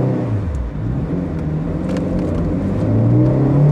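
A Honda CR-Z sports car accelerates in sport mode, its engine droning steadily from inside the cabin and climbing in pitch and loudness toward the end.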